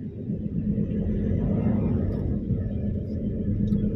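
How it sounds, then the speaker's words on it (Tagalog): Road traffic rumbles past continuously, a low, steady drone of cars moving by at a moderate distance, with no clear individual pass and no speech. "mga sasakyan na naman to."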